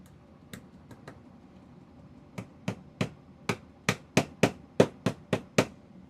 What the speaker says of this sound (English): I'm gonna go ahead and hammer my little jig back in so these screws aren't just on my desk.